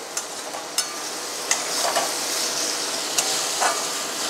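Spice paste for a jackfruit and prawn curry frying in oil in a pan, a steady soft sizzle broken by a few sharp scraping clicks of a spoon stirring, close and alone.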